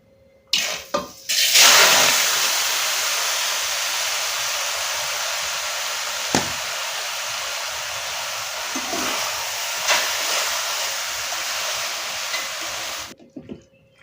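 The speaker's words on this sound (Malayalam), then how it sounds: "ചൂടായ നെയ്യിലേക്ക് അരിഞ്ഞു വെച്ച പഴുത്ത ചക്ക ചേർത്ത് കൊടുക്കുക." Chopped ripe jackfruit hits hot ghee in a pan, a loud, steady sizzle that holds for many seconds with a few small pops and stirs, then cuts off near the end.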